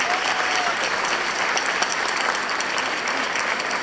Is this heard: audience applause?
yes